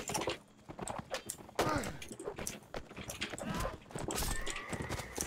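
Horses in a video game battle clatter with rapid clip-clopping hooves and an occasional neigh, moderately loud and busy, mixed with thumps from the fighting.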